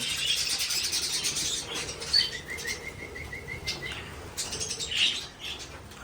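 Small budgerigar wings flutter and flap in short bursts nearby, with a quick run of high chirps and faint twittering against light background noise.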